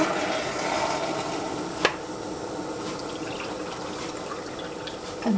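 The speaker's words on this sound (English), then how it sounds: "Now we put water." Water pours steadily into a cooking pot for jasmine rice with a continuous splashing rush, followed by a brief clink and a resumed pour near the end.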